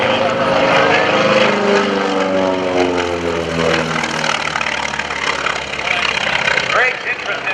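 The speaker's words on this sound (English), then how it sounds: "So you hear half the cylinders firing as it goes by in the exhaust." FM-2 Wildcat propeller fighter plane making a low pass at the 2015 NAS Oceana airshow, a loud radial-engine roar with a sweeping pitch change as it flies by, then trailing off.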